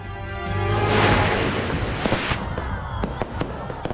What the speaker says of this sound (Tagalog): Nagliwanag ang kalangitan sa isinagawang Grand Fireworks Display Competition